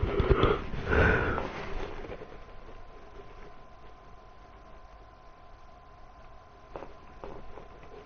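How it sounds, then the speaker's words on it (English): A person sniffing a few times at close range early on, loud short nasal intakes, followed by quiet background hum and faint clicks. "I got the sniffs."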